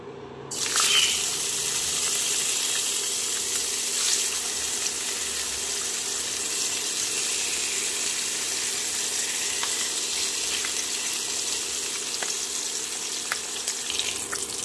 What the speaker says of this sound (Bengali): কড়াতে তেল গরম করে নিয়েছি, মাছগুলো দিয়ে দেব